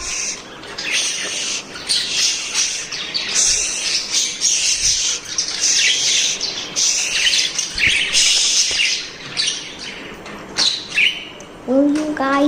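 Pet birds kept at home chirp and squawk continuously, a busy chorus of close, shrill calls with some louder squawks and a brief low voice near the end.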